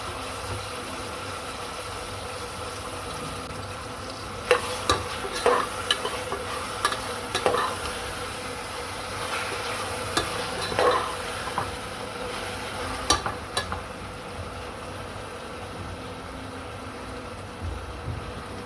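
Ground ginger-garlic paste sizzles in a pressure cooker for chicken biryani, a steady frying hiss broken by a run of sharp spoon scrapes and knocks in the middle stretch.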